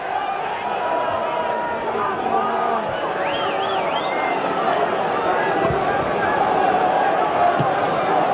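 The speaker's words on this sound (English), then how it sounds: "And now the Halifax crowd really behind." Halifax rugby league crowd at a home match against Leeds, a steady broad roar of spectators rising behind the play, with a whistle-like tone briefly cutting through midway and commentary running over it throughout.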